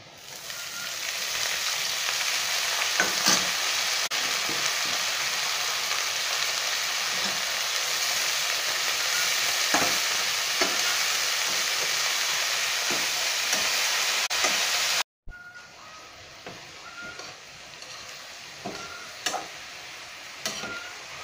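Khutura greens hiss and sizzle as they are stirred and fried with onion in a pan, a continuous close frying crackle with scattered scraping ticks from the stirring, cut by one brief gap before the sizzle resumes more quietly.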